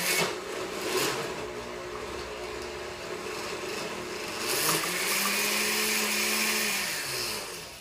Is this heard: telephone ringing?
no